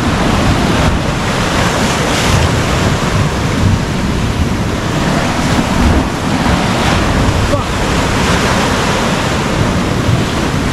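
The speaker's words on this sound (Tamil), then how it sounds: "உக்கரமா இருக்குது கரேபியன் கடல்." Rough Caribbean Sea waves break and churn continuously off the coast of Cuba, a loud, dense roar of surf mixed with wind buffeting the microphone.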